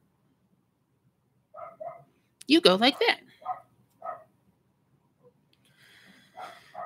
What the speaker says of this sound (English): there's a dog barking upstairs.